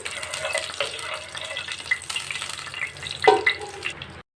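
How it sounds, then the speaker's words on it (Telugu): Mustard seeds, cumin and peppercorns frying lightly in hot oil for a fish curry, a soft continuous sizzle close by with small pops and a sharper crackle toward the end before it cuts off. "ఒక ఎనిమిది తొమ్మిది మిరియాలు వేసుకోవాలి వేసుకొని లైట్గా ఫ్రై చేసుకున్నాము"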